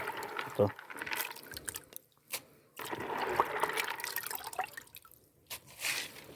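Wet soaked corn and hemp grains being poured and stirred in a container as carp bait, with soft scraping, dripping and trickling; faint background noise throughout.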